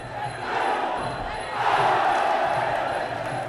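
Crowd cheering and shouting at a 1997 Muay Thai fight, a continuous roar that swells midway, with a commentator's voice running over it.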